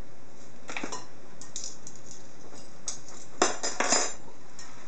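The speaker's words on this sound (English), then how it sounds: "I'm just going to mix this salt in here" Salt being mixed by hand into shredded red cabbage in a bowl for sauerkraut, a run of crisp crunchy rustles and light scrapes with a few louder bursts near the end, close and alone with no talking.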